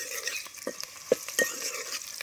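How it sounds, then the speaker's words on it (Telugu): Onions fry in a pan for a village-style chicken curry: a steady soft sizzle, broken by a few sharp scrapes and taps as a spoon stirs them. "ఇట్లా ఉల్లిగడ్డ వేగింది నాయన ఉల్లిగడ్డ వేగింది"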